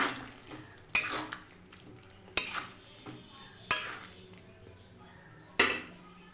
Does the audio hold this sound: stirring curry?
yes